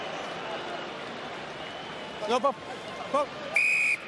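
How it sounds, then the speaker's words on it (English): A rugby referee's whistle at the 2007 World Cup quarter-final between Argentina and Scotland in Saint-Denis gives several short sharp blasts, then one longer steady blast, all over a constant stadium crowd roar. "I blow my whistle."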